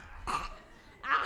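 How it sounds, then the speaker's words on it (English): A person at a coffeehouse performance coughs on purpose as if bringing up phlegm, two harsh, throaty bursts separated by a short pause. "you are trying to cough up as much phlegm out of your lungs as possible"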